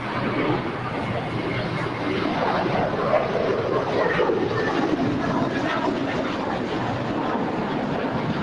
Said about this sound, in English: so we've got the next departure is an American A321.